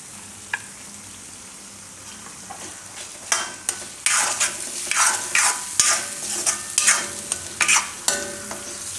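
Tomatoes are stirred into a garlicky carrot mixture in a pan for Gujarati lasaniya gajar, with a steady sizzle under repeated scraping strokes that grow busier and louder after the first few seconds.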